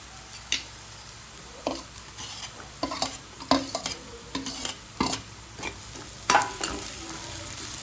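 Chopped green chillies fry with golden-brown onions in a pan, giving a low sizzle under a series of irregular spatula scrapes and clacks against the metal, close and clear, with no voices.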